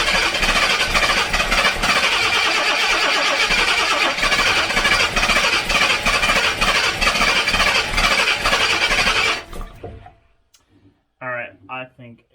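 A rebuilt Jaguar XJC engine cranks and fires up, running loud and rough with a dense clattering roar for about nine seconds before cutting out abruptly; a brief voice follows in the quiet.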